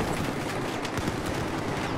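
QBS-09 shotgun fire in Battlefield 4 multiplayer, a dense wash of gunfire with a few sharper shots poking out of continuous battle noise, fairly distant and muffled, no talking.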